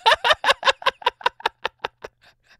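A gobbling, quacking fowl call from a browser video game where a duck gets run over: a rapid series of about a dozen clipped honks that steadily fade, clear and without speech.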